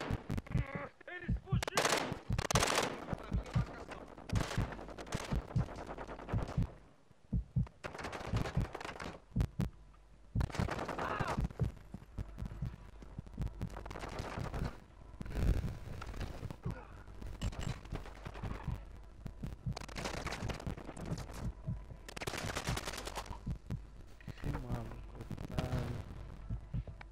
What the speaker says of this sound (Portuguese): Tava atirando através da janela.